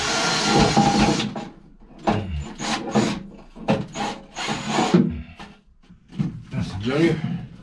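Something is scraped by hand to clean out holes near a boat's bilge pump, close, rough rasping strokes in irregular bursts with short pauses between them.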